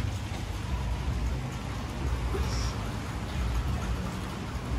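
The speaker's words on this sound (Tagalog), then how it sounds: "Umuulan na naman siya." Rain falls steadily outside at night in Phnom Penh, a dense, even hiss of drops with no pauses, fairly loud and close, with no voices over it.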